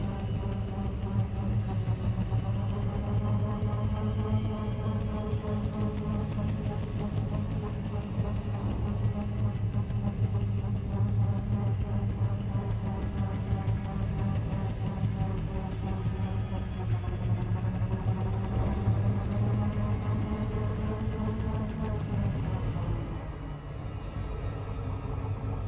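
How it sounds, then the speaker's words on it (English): Spaceship engine hum in the video game Elite Dangerous, a steady droning tone with layered harmonics and low rumble that holds for over twenty seconds before easing slightly near the end. "I think my engine sounds a bit funny"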